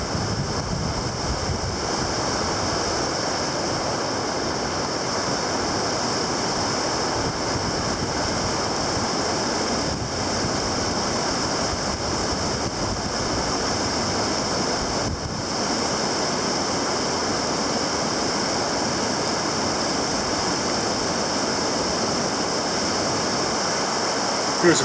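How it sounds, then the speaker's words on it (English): The Little River and Goshen Prong rush steadily beside a mountain backpacking trail near Clingmans Dome, giving a constant, even roar of flowing water that holds unchanged throughout with no talking. "The trail parallels the Goshen Prong with the Little River most of the way to the ridgeline."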